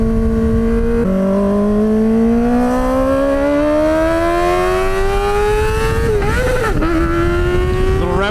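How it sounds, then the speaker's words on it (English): Kawasaki ZX-4RR with an aftermarket exhaust revving hard, a loud high-pitched wail rising steadily, then a brief stutter and bark near the end before climbing again. "really show off the sound of the exhaust,"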